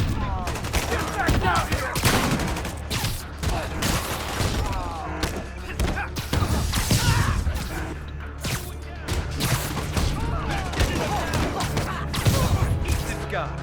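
Gunfire from Fisk's men in the Marvel's Spider-Man video game: dense bursts of automatic fire and shots crackle continuously, mixed with thuds and impacts, while voices shout over the fighting.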